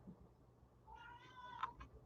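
A cat meows faintly from a short distance, one drawn-out, slightly wavering cry over a quiet room.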